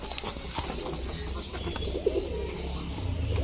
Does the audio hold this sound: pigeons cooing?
yes